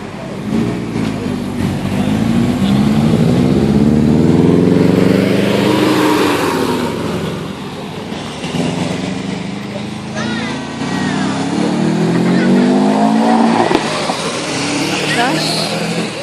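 Subaru passing at a supercar meet, engine revving and roaring by with pitch sweeps across the pass, while people talk over it nearby.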